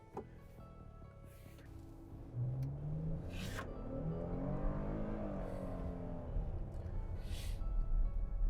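A 2022 Hyundai Palisade Calligraphy engine cranks and catches about two seconds in, then settles into a steady, close idle hum with a few light clicks over a low rumble.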